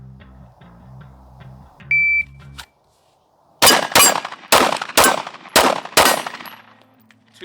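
Six sharp, loud pistol gunshots fired in quick succession during a timed shooting drill, preceded by a shot-timer beep and earlier faint beeping.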